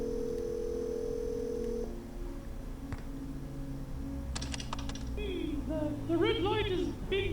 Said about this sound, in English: I'm gonna call the number on the phone card real quick and see what happens.